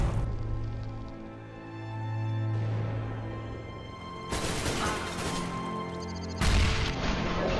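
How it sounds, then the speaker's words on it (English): Flashbang grenade detonating in CS:GO, a sharp crash-like bang amid game music, followed by another abrupt loud burst, with ringing tones lingering between. "Flashbang."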